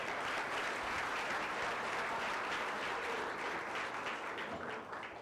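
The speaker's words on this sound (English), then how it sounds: "So up in New York, we call that cheap applause." Sustained applause from a seated audience at a live immigration roundtable event, dense and steady throughout, tapering slightly at the end.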